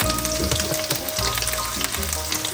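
Mushrooms sizzling loudly in melted butter in a hot pan, a dense, steady crackle and spit heard up close with no talking, cooked as part of a smoked picanha beef Wellington.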